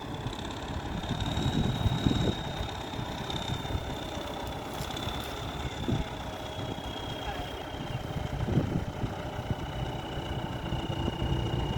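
A Ford 7600 tractor engine pulling a three-disc plough, preparing soil for sugarcane, runs steadily at a rumbling idle throughout, with a faint whine above and scattered clanks and voices in the background.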